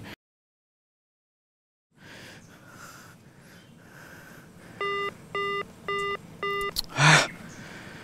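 A phone call that fails to connect gives four evenly spaced beeps, loud and close, then a short harsh burst of noise, after two seconds of near silence and a faint hiss; the scene is from an Indonesian TV drama.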